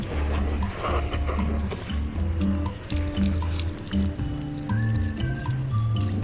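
Water runs steadily from a tap, splashing and pouring over a waterproof Dirtsack Max motorcycle tail bag to soak it, a close, continuous gush with shifting splashes and no talk.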